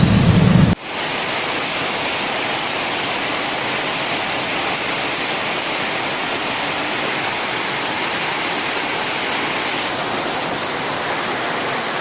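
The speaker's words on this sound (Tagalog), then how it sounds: "It's raining, man. It's raining." Heavy rain pours in a steady, dense roar that fills the whole stretch, loud and constant, after a brief opening moment of something else.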